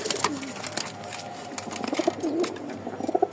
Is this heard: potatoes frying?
no